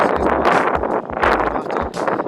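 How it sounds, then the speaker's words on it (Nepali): Strong gusts buffet the microphone on the mountain trail toward Thorong La Pass, roaring in loud, uneven surges with faint leaf rustle between them. "हावा चाहिँ ओभर चल्दो रहेछ"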